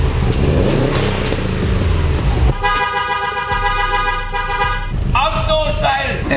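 A Subaru WRX engine runs loud and steady close by, with a sharp horn-like harmonic tone cutting in partway through and again near the end, while people talk excitedly over it.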